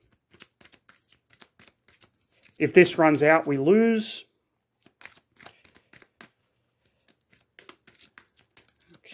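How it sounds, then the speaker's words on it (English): A deck of board game cards is riffled and shuffled in quick soft flicks across the clip, near and quiet, with a brief spoken phrase in the middle. "let me first shuffle my monster deck."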